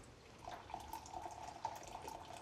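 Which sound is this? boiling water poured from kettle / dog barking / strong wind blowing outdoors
boiling water poured from kettle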